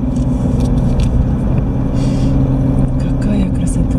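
Car cruising slowly along a road in Florida near Sanford airport, steady low engine and road rumble from inside the cabin, with someone talking over it.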